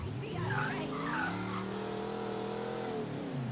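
Tires squeal as a car skids at high speed during a police chase in Mafia III. A sustained, wavering screech rises and falls under steady engine noise for a few seconds.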